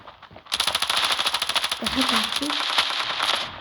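Rapid automatic gunfire rattles in the mobile shooter game Standoff 2, loud and close in fast continuous bursts, with a player's voice briefly speaking over the shots.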